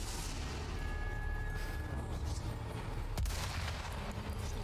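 Gunfire in Resident Evil 4 Remake, a dense spread of shots and booms over continuous game noise, with one sharp louder blast near the end.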